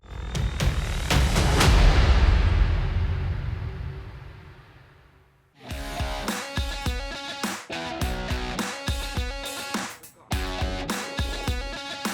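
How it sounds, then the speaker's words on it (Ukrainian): Machine gun fired in bursts at a military training range: a cluster of sharp, loud shots with a heavy rumbling decay, then silence and a burst of music. "Кулеметник працює чергами!"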